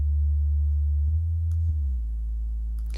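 Deep sustained synth sub bass from an Arcade software plugin, holding low notes that shift pitch partway through, smooth and loud with no other instruments or voices.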